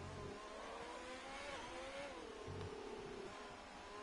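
A race car in a sim racing game on the Brazil circuit, its engine note climbing steadily under hard throttle out of a corner, one gear change midway, loud and continuous with no speech.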